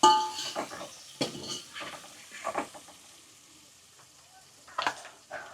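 Vaghar tempering for green tuver kadhi, a low sizzle in a pot on a reduced flame punctuated by several loud metallic scrapes and clanks of a spoon against the vessel, with no one talking.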